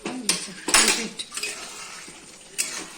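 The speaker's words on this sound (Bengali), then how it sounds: "এবার ঢাকনাটা খুলে নেবো।" A metal lid comes off a pot of quick chicken cooking on the stove, giving a few sharp clinks and clatters with softer scrapes in between, close and moderately loud.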